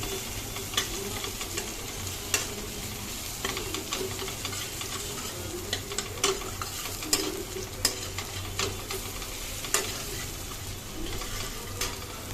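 Crushed garlic frying in a pan for a duck egg korma with hog plums and coconut, a steady close sizzle broken by regular scraping and stirring clicks of a spoon, with no talk.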